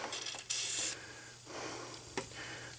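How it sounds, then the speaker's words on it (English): A short burst of Fluid Film aerosol sprayed into engine mount bolt holes, a close, bright hiss lasting about half a second, followed by quieter shop rustling and a brief second faint puff. "let's spray all the bolt holes with a little fluid film."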